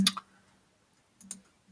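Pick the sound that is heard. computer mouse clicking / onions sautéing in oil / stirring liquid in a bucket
computer mouse clicking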